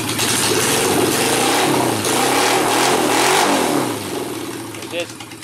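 A car engine that reportedly runs rich and stumbles when pulling away runs close by, revving up and down in a steady, rough drone before settling back toward idle.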